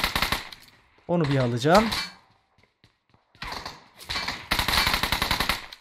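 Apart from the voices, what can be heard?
gunfire in the video game PUBG Mobile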